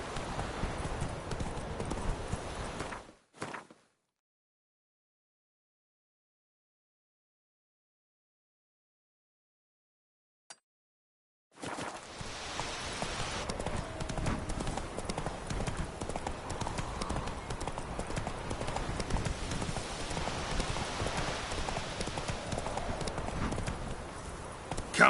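Galloping horse hooves in The Witcher 3, a steady rapid clip-clop that runs loud, drops out into silence for several seconds, then returns just as strong and continuous.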